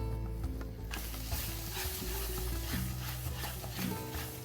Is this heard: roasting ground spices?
yes